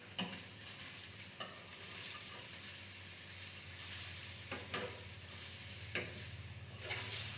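Food for a Dayak Ngaju dish fries in cooking oil in a pan, a steady sizzle running throughout, broken by several sharp scraping knocks as it is stirred and flipped; no voices.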